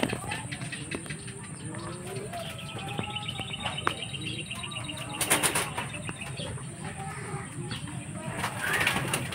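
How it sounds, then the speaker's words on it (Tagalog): Young racing pigeons arrive home from a 296 km release at Vigan, with repeated bursts of flapping wings, chirps and coos close by while someone talks over them. "Ayun yung tatlo mga kalapatids, ngayon pa lang sila umuwi."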